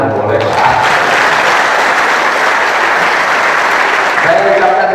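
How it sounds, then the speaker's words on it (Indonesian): Hundreds of police officers in a hall break into loud, continuous applause at a speech, a thick roaring wall of clapping with crowd voices mixed in throughout. "Tepuk tangan dan boleh."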